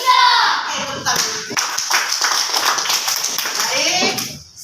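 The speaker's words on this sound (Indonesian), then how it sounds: "Oke, tepuk tangan." A class of sixth-grade schoolchildren clapping their hands together, a dense burst of many hands that carries on steadily for several seconds before tapering off, with some children's voices mixed in.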